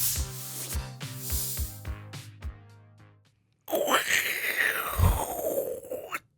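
An aerosol whipped cream can sprays in a hissing, sputtering burst lasting a few seconds, close-up, preceded by a rhythmic series of clicks and tones.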